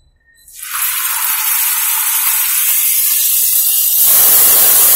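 Vanjaram fish hits hot cold-pressed groundnut oil on a dosa pan and erupts into a loud, close, steady hiss and sizzle that holds and swells slightly toward the end.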